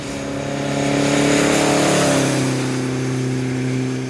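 A supermoto motorcycle engine runs on the road, a close, loud, sustained drone with a slight pitch rise and fall as it revs, steady throughout with no talking.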